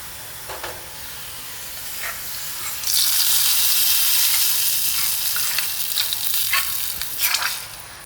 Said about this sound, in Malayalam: വെളിച്ചെണ്ണയിൽ ചെറിയ ഉള്ളി അത് നമുക്ക് വഴറ്റിയിടണം